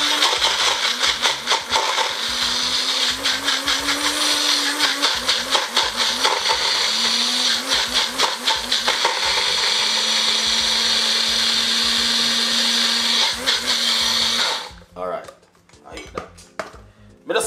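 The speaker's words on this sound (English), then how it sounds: "and I'm just gonna run it through my blender." A kitchen blender grinds toasted bread slices into breadcrumbs, running loud and steady with a whirring motor pitch that rises and dips, rattling pieces churning inside, before it cuts off and clatters to a stop.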